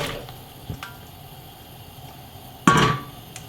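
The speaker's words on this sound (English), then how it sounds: "we can just pour in the feijoas" Chopped feijoas tipped into a pot heated on medium. One short, dense clatter and squish lands near the end, after a quiet stretch with a couple of faint ticks.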